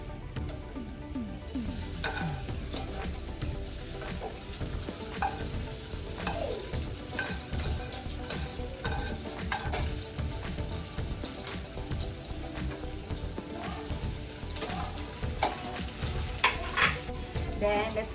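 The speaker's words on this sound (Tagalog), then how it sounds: "Niluluto lang natin yung sibuyas." Onions sizzle and fry in a pan before pork steak is cooked, with a steady crackle under occasional scraping and clinking as they are stirred.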